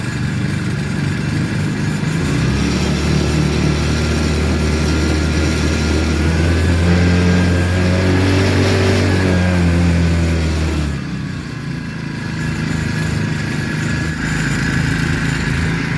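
Cheap Chinese four-stroke outboard motor mounted on a kayak, idling and then revving up in a rising and falling drone before dropping back to a quieter putter, loud and close with no talk.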